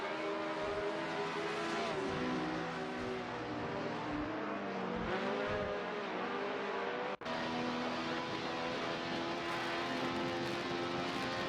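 Simulated 1967 Formula One cars racing at Kyalami in a video game, with steady layered engine drones that rise and fall in pitch through corners and a brief cut near the middle, no voices.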